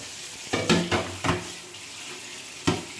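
A kitchen tap runs while the lunch dishes are washed in a home sink. Water flows steadily and faintly, broken by several sharp splashes and clatters of dishes.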